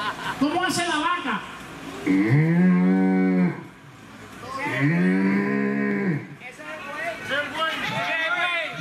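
A person imitates a cow's moo, drawing out long, loud, low lowing calls twice in a row, then a shorter third, with an audience around at a live show in Villalba, Puerto Rico.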